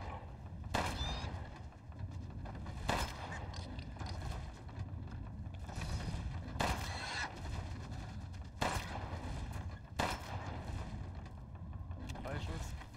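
Gunshots in Resident Evil Village play as several sharp, loud bursts spread at irregular intervals over a steady rumbling water and wind background, with talk heard between them.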